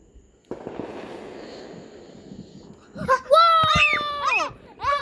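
Fireworks go off outdoors, opening with a sustained crackling whoosh, then whistling rising streaks and sharp pops. Excited children's voices shout and talk over the bursts.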